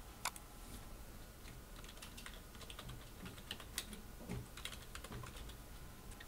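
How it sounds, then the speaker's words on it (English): Keys tapped on a computer keyboard in quiet, irregular bursts of light clicks, with a few sharper presses standing out, and no voices over them. "So I'm just going to press enter four times."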